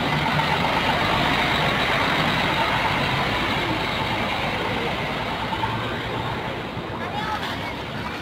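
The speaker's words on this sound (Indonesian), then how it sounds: "bus Lita sudah start tujuan Toraja" A Scania K 410 double-decker coach with Jetbus3+ SDD bodywork runs steadily after starting. Its deep engine rumble holds loud and continuous, with a broad wash of noise over it.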